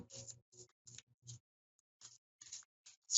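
Playing cards are shuffled by hand in a series of short, crisp riffling bursts with brief pauses between them, close and fairly quiet, with no talking.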